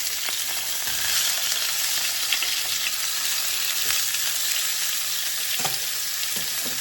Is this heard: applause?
no